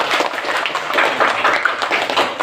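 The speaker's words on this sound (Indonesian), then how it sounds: "Tepuk tangan untuk kelas 5 hari ini" A fifth-grade class of children in an Indonesian classroom applauds with brisk, continuous clapping from many hands, close and fairly loud throughout.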